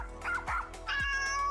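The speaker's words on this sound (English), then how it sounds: "my cat Kygo and my dog Rhea has something to say." A pet cat gives two quick meows followed by a longer drawn-out one, and a dog adds short low woofs beneath, all close and loud in a brief burst.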